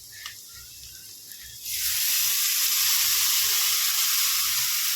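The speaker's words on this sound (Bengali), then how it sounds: "পেঁয়াজটা অনেকটা ভাজা হয়ে গেছে" Onions hit a hot pan and burst into a loud, steady sizzle after a quieter start, the frying hiss continuing evenly to the end in a home kitchen.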